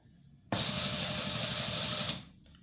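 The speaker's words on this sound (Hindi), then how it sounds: "ये एक बूट के फासले पर तीनों को स्टिचिंग करना है।" A sewing machine stitches a two-piece collar made of band, collar and lining layers, running loud and steady in one continuous burst of about a second and a half and then stopping.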